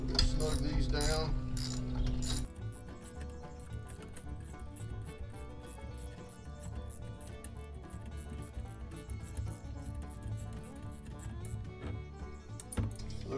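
Small bolts being snugged down on a spinning jenny for high tensile wire, heard as close ratcheting clicks and metallic taps in a quick irregular rhythm after a louder clatter at the start.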